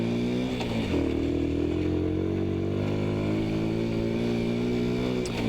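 A Honda Little Cub 50 motorcycle hums steadily while riding on a Dublin road, the small engine close and continuous with a slight rise in pitch as it pulls away.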